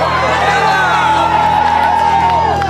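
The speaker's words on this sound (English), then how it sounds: "A crowd of freaks and misfits have come to see my funeral." A fight night crowd roars and cheers around a boxing ring, with a steady dense wall of voices, whoops and shouts filling the whole stretch at high volume.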